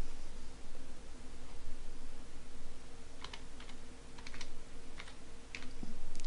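Quick bursts of typing on a computer keyboard while text is entered in GIMP 2.6, with irregular clusters of clicks over a steady low hum and soft background hiss, no voices.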